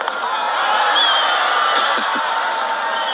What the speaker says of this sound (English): Crowd wanted more than just a single.